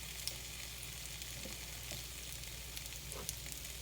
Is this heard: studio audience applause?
no